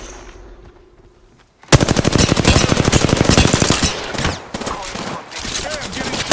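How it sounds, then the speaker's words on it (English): Rapid automatic gunfire in the shooter game Apex Legends, loud and close, with sustained bursts of fast shots after a quiet start, followed by shorter bursts and game sound effects. "Hey, I'm getting shot."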